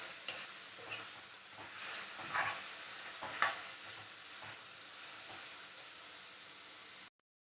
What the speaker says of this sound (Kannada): ಆವಾಗವಾಗ ನಾವು ಸ್ವಲ್ಪ ಬೇಯ್ತಾ ಟೊಮೆಟೊನ ಹಿಂಗೆ ಸ್ಮ್ಯಾಶ್ ಮಾಡ್ತಾ ಇರಬೇಕು